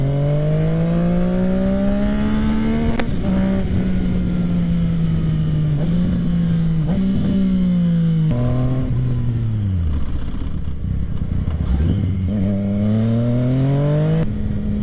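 A Yamaha MT-09 motorcycle engine running just after its first start, loud and steady with a strong low drone. The revs blip up and down several times, with sharp clicks or pops at a few points and no talking over it.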